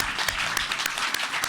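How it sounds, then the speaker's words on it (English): A brief burst of audience clapping for a panel at a Senate field hearing in Kenai, Alaska, steady and fairly close with a few sharper individual claps standing out. "how about a round of applause for our second panel here?"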